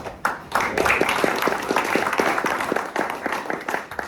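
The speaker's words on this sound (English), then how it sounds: "thank you for the applause" Audience applause at a Coast Guard training center command ceremony, a burst of many hands clapping that starts abruptly and continues evenly for several seconds before thinning out, fairly close and alone.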